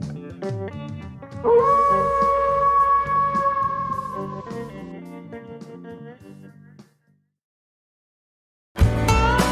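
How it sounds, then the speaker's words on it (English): A howling wolf sound effect plays over a radio show intro, a long drawn-out wavering howl with layered harmonics, then a pause of silence before another loud burst begins. "that howl means your weekend has begun"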